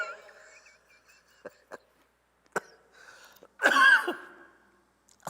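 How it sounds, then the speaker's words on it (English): A single loud cough bursts out near the mic in the middle of a quiet live radio studio stream, preceded by a few soft clicks and thumps. "make me cough there"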